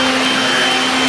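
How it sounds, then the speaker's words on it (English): A Bosch Athlet cordless vacuum cleaner running on a high power setting, a loud, steady motor whine with a strong held tone, heard close and alone. "It's quite a versatile Hoover"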